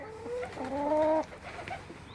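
A chicken clucks close by in a short drawn-out call with a rising, wavering tone. A few softer clucks follow against quiet background noise.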